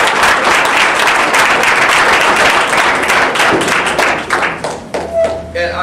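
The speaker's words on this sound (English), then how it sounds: "So let's give the parents and the families a round of applause." Loud, close applause fills a scholar-athlete awards luncheon for parents and families, dense clapping that thins and tapers toward the end as individual claps and a few thumps stand out.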